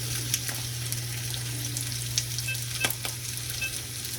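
Mackerel patties fry in oil in a pan with a steady, close crackling sizzle, marked by occasional sharper pops.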